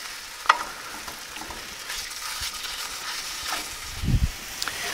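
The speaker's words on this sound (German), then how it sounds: "zuerst braten wir das Fleisch jetzt mal ein bisschen krümelig an." Minced meat browning in a frying pan, a soft steady sizzle with occasional scrapes and stirring clatter, including a louder knock of the spatula near the end, close by with no talking.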